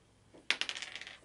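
Dice clatter onto a table during a Shadows of Brimstone board game, one sharp landing followed by a quick series of fading rattles, heard alone and fairly quiet.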